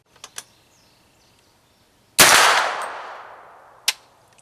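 Sharp unsuppressed reports from a BCI Dagger firing subsonic ammunition with its factory muzzle device: two faint quick pops, then one loud crack with a long decaying ring, and another short sharp report about two seconds later, with no talking.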